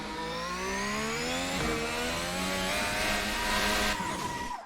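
A Formula 1 car in a racing game spins out at Bahrain, its engine whining in a steady, sliding tone that drifts and falls away as the tires scrub, fairly quiet and heard alone.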